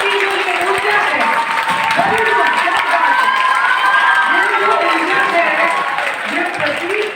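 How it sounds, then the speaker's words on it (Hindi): A large crowd claps and cheers loudly and continuously at a college NSS special camp closing ceremony, with shouts and voices rising over the steady roar of applause. "दोनों हाथ ऊपर उठाइए, दोनों हाथ जोरदार तालियां बजाइए।"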